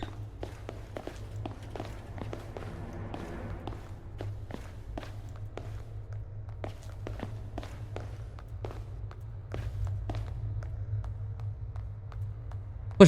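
Heavy footsteps thud in Slender The Arrival, a long run of sharp, irregular steps over a low steady hum.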